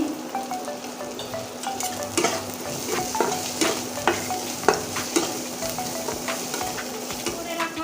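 Ground spices frying and being stirred in a pan for Bengali-style potato paratha filling, a steady close sizzle with repeated scraping strokes of the spoon throughout.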